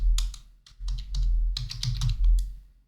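Typing on a computer keyboard while entering short text into a design layout, with clustered key clicks in quick bursts and brief pauses, close and clear with no talking.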